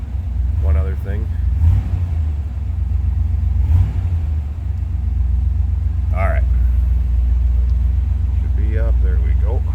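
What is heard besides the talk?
1964 Chevrolet Corvette engine running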